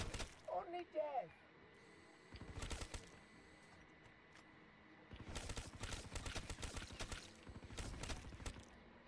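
Bursts of rapid LMG fire in Call of Duty Black Ops 3 Zombies on the Moon map, one short volley early on and a longer sustained stretch later, loud and close with game noise between.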